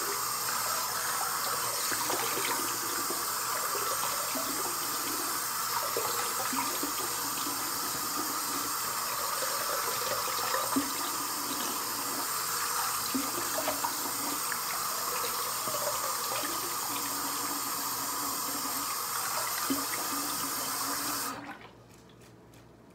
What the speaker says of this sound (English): So now we're gonna run cold water and rinse it off.